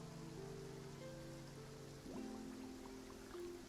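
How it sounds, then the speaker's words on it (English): Rain falls on a city in Genshin Impact, a soft and steady patter heard faintly throughout, with quiet sustained tones running beneath it. "I love this atmosphere of rain"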